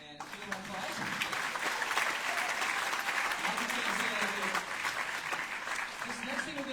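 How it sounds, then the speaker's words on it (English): Sustained audience applause at a jazz concert for the rhythm section, steady dense clapping throughout, with crowd noise and faint talk underneath. "And give them an applause."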